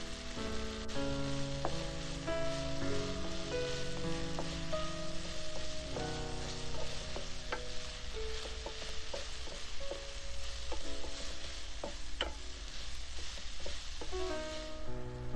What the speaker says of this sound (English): Then add the carrots. Keep stirring to help the flavor merge together.